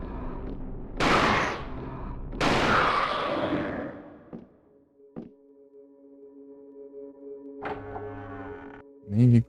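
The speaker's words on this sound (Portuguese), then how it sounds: "Aqui tem que dar 2 tiros pra matar e cada 3 recarrega" Two loud, sharp gunshots ring out close together in the survival horror game Alone in the Dark: The New Nightmare, each trailing off in a long decay, followed by faint clicks and a steady electronic hum.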